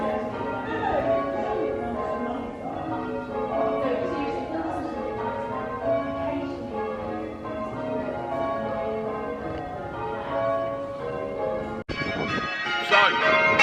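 Church bells rung by bell ringers at practice fill the air in a continuous, overlapping peal of ringing tones that holds at a steady level throughout, with a brighter cluster of strikes near the end.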